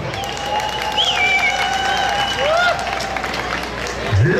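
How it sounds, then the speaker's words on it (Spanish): A rodeo crowd at a ranch bull tournament applauds a finalist bull, with sustained clapping and crowd noise under an announcer's voice, a few whistles rising above. "que me regalen el aplauso"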